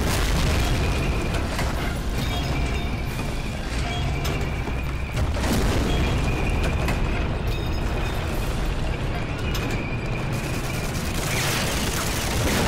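Heavy explosions in the World War II shooter game Medal of Honor: Allied Assault, with repeated deep booms and bursts of fire rolling loudly and almost without pause.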